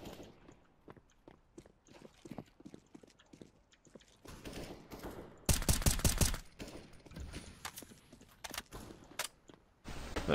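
CS:GO gunfire plays as sharp, scattered shots and clicks at low level, with a louder burst of rapid firing in the middle and another near the end.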